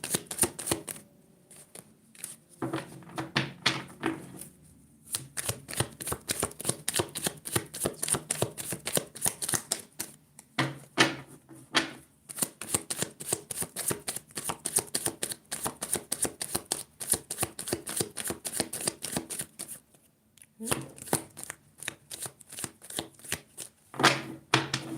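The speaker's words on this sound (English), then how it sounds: "But let me just be sitting here trying to do a good, clean shuffle." A deck of playing cards is shuffled again and again, with rapid riffles ending in fluttering snaps. Brief pauses between shuffles break up a close, steady stream of clicking and rattling that carries on without any talk.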